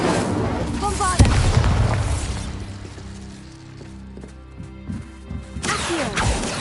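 Bombarda spell blasts in Hogwarts Legacy, a sharp booming explosion near the start with crackling debris, followed by more magical impacts and rumbles under game music and a voice casting spells.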